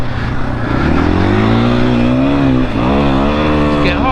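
A 2021 KTM 500 EXC dirt bike engine on a motocross track, loud and close, its pitch climbing and sagging as the throttle is worked, with a brief dip before revving again.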